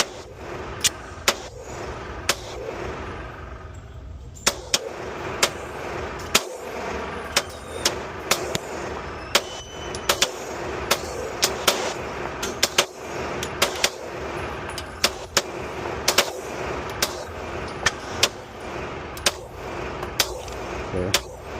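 Glock 19 Gen 5 pistol with upgraded sights and a light, fired in a long string of sharp, loud single shots, some spaced and some in quick bursts, against steady background noise at a range.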